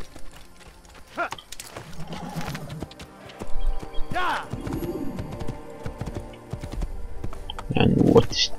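A horse in the Assassin's Creed video game clip-clops with steady hoofbeats and gives several whinnies and snorts, heard over game music and effects, with someone talking at times.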